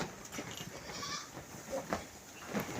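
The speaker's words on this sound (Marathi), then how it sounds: "आणि आतमध्ये बकरं आहेत आपले पाच" Several goats bleat amid a busy, noisy goat shed during the monsoon, calls overlapping and fairly loud throughout.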